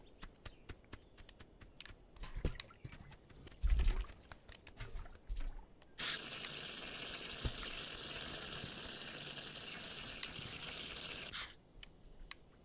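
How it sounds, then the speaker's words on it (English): Water pouring steadily into a container in Untitled Goose Game, a continuous hissing rush lasting several seconds at moderate level after scattered small taps and thumps. "I'm trying to get this filled with water for whatever reason."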